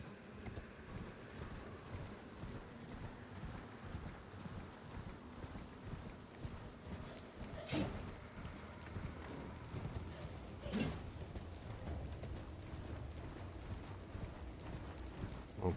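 A horse gallops in Elden Ring, its quick clip-clop hoofbeats drumming steadily and close, with a couple of sharp impact bursts cutting through the run and no talk.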